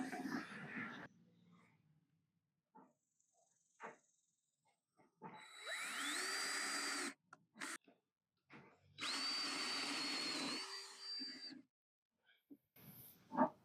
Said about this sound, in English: I'm just going to drill right through it